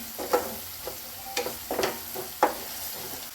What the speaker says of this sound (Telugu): మొత్తం ఒకసారి కలుపుకుందాం.